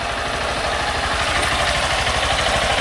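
Honda Titan 160 motorcycle engine idling steadily once warmed up, a close, even low thrum with constant vibration and no pauses or voices throughout.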